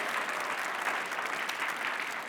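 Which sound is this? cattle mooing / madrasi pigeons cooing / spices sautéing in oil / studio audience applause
studio audience applause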